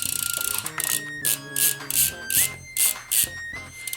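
A bicycle rear hub ratchet clicks loudly in rapid bursts, with a buzzing freewheel whir coming in short repeated spins, close and prominent, under some faint background sound.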